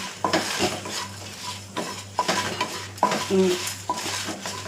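Coriander seeds and dried chilies dry-roast in a pan, stirred with a utensil that scrapes and clinks against the metal in repeated strokes over a faint sizzle and a steady low hum, close up.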